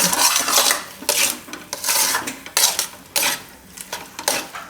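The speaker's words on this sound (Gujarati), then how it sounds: "હલાવતું રહેવાનું." Spatula stirring chana dal barfi mixture with ghee in a pan, repeated scraping and clinking strokes in an uneven rhythm, close and alone without talk.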